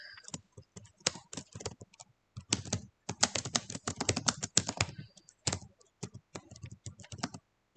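Typing on a computer keyboard, a close, fairly quiet patter of key clicks that comes in irregular bursts with short pauses, and no speech.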